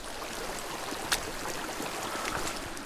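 Chilly mountain stream water rushes and trickles steadily around someone wet wading through it, with a brief splash midway, close and fairly soft.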